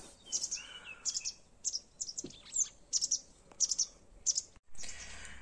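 Bright, high chirps from a small bird come in quick clusters throughout, with a soft rustle and a brief knock near the end.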